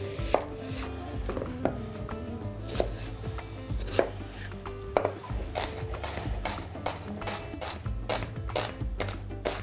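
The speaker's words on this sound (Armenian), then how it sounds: "Կտրատում ենք մանր։" Onion being finely chopped with a knife on a board in a home kitchen, a steady run of close, sharp knife taps with no talking.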